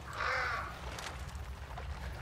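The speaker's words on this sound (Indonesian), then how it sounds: "Pas ada burung tuh." Crows cawing in the Hunt: Showdown video game, a single loud harsh caw at the start followed by quieter rustling and distant ambience.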